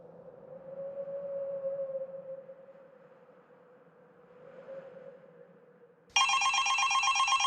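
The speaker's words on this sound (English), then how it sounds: "The phone rang, and it was 5:30 in the morning." A telephone bursts into ringing after a low, wavering drone, the rapid bright trill starting abruptly and continuing loudly to the end.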